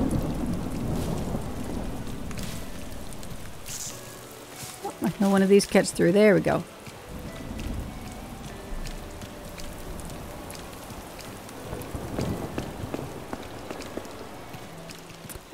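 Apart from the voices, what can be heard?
thunder and rain on a stormy night, from video game Animal Crossing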